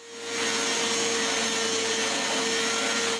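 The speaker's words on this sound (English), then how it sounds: "I begin with my linear sander" Linear sander working a large wooden door frame stripped of its old finish, sandpaper clogging quickly; a loud, steady motorized buzz with a fixed tonal hum runs unbroken for about three seconds, no voices.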